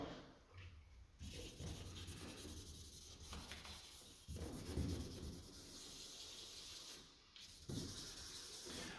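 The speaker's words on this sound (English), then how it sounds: "I will sand the unnecessary primer" Sandpaper of 1500 grit rubs over primer on a car's clear coat during a spot repair, a steady soft close hiss that pauses briefly twice, with no speech.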